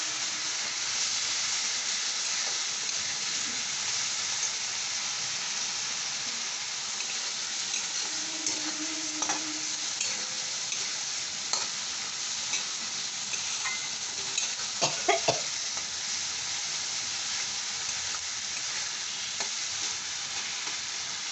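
Spices and ginger paste fry in a pan for a fish-head and cabbage dish, a constant sizzling hiss with intermittent scrapes and clinks from stirring, close and without talk.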